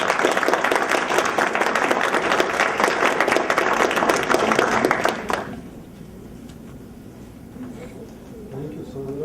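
An audience at a welcome event breaks into dense, loud applause for a speaker; the clapping cuts off sharply after about five seconds, leaving a quiet room with faint voices.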